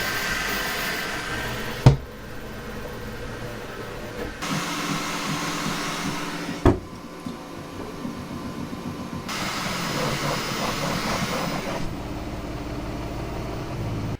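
A 3D printer hums and whirs steadily for a long stretch, motors shifting pitch in changing passages, with a couple of sharp clicks; fairly quiet overall.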